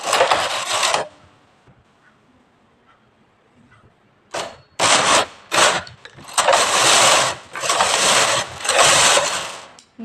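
A knitting machine carriage sliding across the needle bed knitting plain rows, heard as loud, close, rushing mechanical sweeps in several bursts with short quiet gaps between passes.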